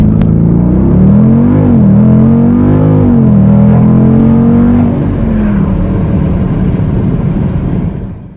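A Dodge Durango with a 6.4-liter Hemi V8 roars hard under acceleration, a loud, deep engine note rising and holding close by before easing off at the end.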